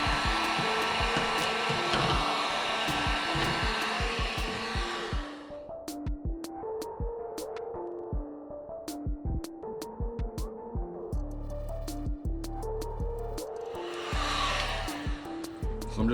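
A heat gun blows with a steady whooshing hum while warming vinyl wrap along cut lines on a TRD 4Runner hood scoop; the airflow shifts and drops, with tapping and rustling nearby.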